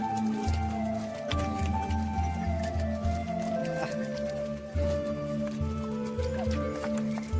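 Horses and pilgrims walking together along a muddy mountain path on the Amarnath cave to Baltal route, with steady clip-clop and squelching hoof steps close by, a rushing stream and people talking in the background.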